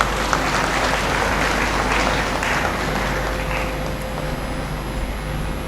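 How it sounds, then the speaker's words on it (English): An audience at a university graduate-school graduation ceremony gives dense, sustained applause that holds at an even, fairly loud level throughout. "I think the university deserves a great applause"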